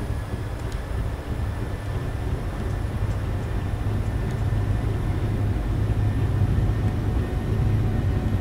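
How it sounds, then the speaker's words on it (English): Boeing 737 jet engines spool up to takeoff thrust, heard from inside as a steady, dense rumbling roar that gradually grows louder, with faint clicks and no talk. "Set takeoff thrust."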